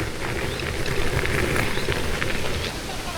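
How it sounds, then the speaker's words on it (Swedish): Steady broadband trickling and splashing of running water inside a building fills the whole clip, constant and fairly close, with no talk over it. "Här rinner vatten här inne hör jag."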